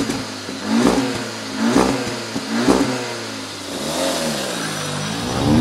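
An Audi S3 sedan engine rises through several hard revving pulls, each surge climbing then cutting briefly at a shift before settling into a steadier drone, heard from inside the car without speech.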